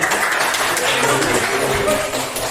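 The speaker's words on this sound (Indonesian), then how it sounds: "Ya, berikan tepuk tangan dong." A classroom group applauds during a teaching practice session, giving a steady, moderately loud wash of clapping that fills the room, with faint voices mixed underneath.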